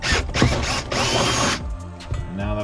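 A power drill bores through a plastic dash panel of a 1988 Ford Bronco to fit a rivet nut, giving loud bursts of whirring with short pauses between them and a lighter mechanical rattle near the end.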